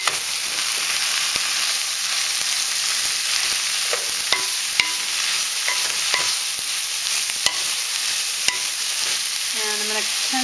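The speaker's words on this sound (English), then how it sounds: "I'm just going to stir it up and make sure that everything's coated" Heavily seasoned chicken is stirred in a hot pan, giving a constant close sizzle broken by sharp clicks and scrapes of the utensil against the pan, with no speech.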